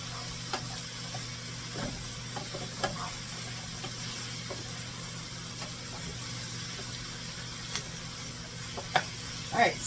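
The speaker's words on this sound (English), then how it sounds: "So we're going to stir that garlic powder in there too." Browned hamburger with garlic powder being stirred in a pan, a quiet soft sizzle with occasional utensil scrapes and taps, fairly faint and steady.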